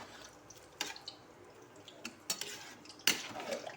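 A spoon scrapes and knocks against a cooking pot while khichuri is stirred, producing several sharp, irregular clinks over a quiet, soft background.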